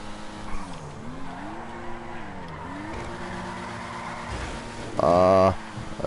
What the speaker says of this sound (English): this is the fastest car on the game